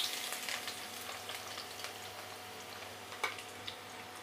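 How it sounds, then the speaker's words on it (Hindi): Two large roughly chopped onions fry in hot oil in a kadai, giving a steady close sizzle with a few light stirring clicks and scrapes and no talk. "तेल गरम हो गया, अब इसमें 2 बड़े साइज़ के प्याज रफली चॉप करके डाल देंगे।"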